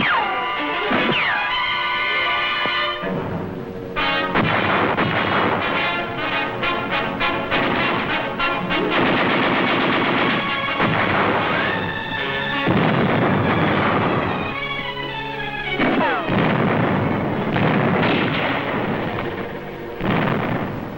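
Battlefield din of machine gun and artillery fire during the 1945 Okinawa fighting, with loud continuous bursts, heavy booms and crashes packed densely together from start to finish, with no voices.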